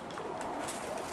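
A racing pigeon in a loft during vaccination gives a soft, continuous cooing, close by and alone, lasting about a second.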